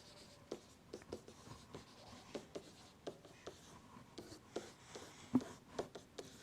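Pen or marker writing out a math equation, a series of soft scratchy strokes and taps in an irregular rhythm, close and quiet with no talking.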